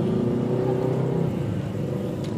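A modified Yamaha Vixion motorcycle engine runs with a steady, loud, close rumble and slight revving, with no voices over it.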